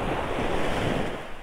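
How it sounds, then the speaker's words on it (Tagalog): Ocean waves wash steadily onto a fine-sand beach on Homonhon Island, Guiuan, Eastern Samar, a continuous broad roar of surf with some wind buffeting the microphone. "yung alon."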